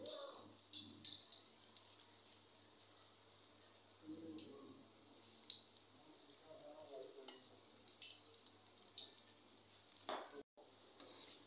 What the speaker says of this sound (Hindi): आयल गर्म हो चुका है, अब मैं पकौड़ों को तलने लगी हूँ।